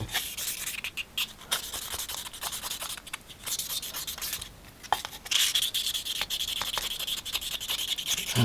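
Steady abrasive rubbing of 12k grit paper along the inside edges of a straight razor, a continuous close scratchy sanding with brief pauses between strokes, no talking.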